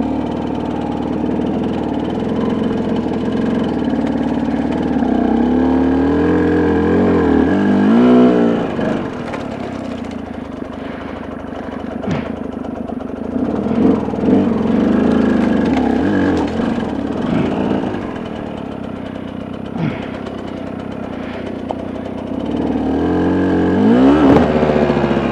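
A truck camper's engine runs close and loud for a long stretch, its motor revving up and easing off in waves over a steady rumbling drone.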